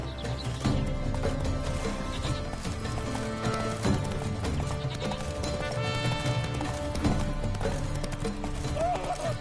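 A horse gallops in The Witcher 3: Wild Hunt, Blood and Wine, with rapid steady hoofbeats, a whinny and sheep bleating mixed into the dense game soundscape, all up close.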